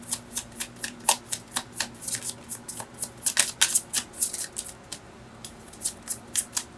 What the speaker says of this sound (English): Cards are flying.